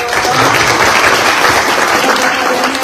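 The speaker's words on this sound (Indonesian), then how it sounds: "Tepuk tangan yang mantap dong." A crowd claps enthusiastically, dense and loud applause filling the room without pause.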